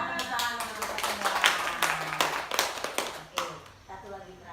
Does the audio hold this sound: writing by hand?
no